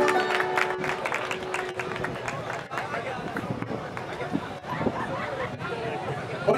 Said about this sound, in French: On applaudit Noumoucounda